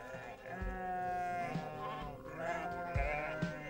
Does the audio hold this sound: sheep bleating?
yes